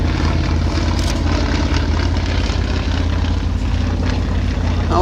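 A Yakovlev Yak-50 aerobatic plane flies a display at the Little Gransden air show, its engine and propeller making a loud, steady droning roar that holds unbroken throughout, with no voices.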